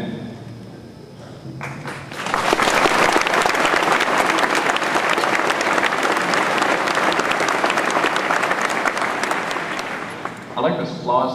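The audience at a high school commencement ceremony applauds after the speech, a loud, sustained burst of clapping that swells quickly and fills the hall for about eight seconds, with a voice briefly before and after.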